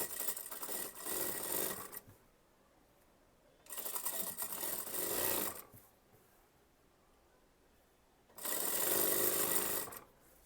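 A sewing machine stitches the folded sleeve hem of an Anarkali kurti in three separate bursts of whirring, each a couple of seconds long, close but moderately quiet with pauses between.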